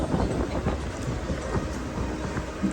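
A moving passenger train rumbles steadily at speed with rhythmic rattling and clacking, a continuous low roar heard from inside the carriage.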